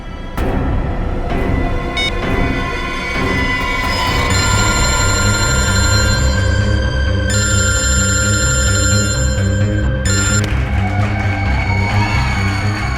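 A mobile phone rings with a repeated electronic ringtone over a loud, busy musical background, the tone coming in bursts with short gaps across the whole stretch.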